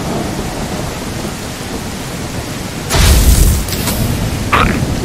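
Rain and thunder from the video game Mist Survival: a steady hiss of rainfall throughout, with a deep, loud rumble of thunder swelling near the middle and fading back into the rain.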